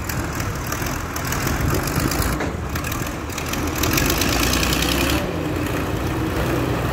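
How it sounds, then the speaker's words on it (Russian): Snow-clearing machinery works along Lenin Avenue in Yakutsk, giving off a steady, continuous low engine rumble outdoors with no pauses. "проспект Ленина, идет уборка снега"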